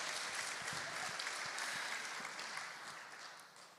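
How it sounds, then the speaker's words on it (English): Conference audience applauding volunteers, a dense wash of clapping heard from a distance that fades toward the end. "So another round of applause to our volunteers"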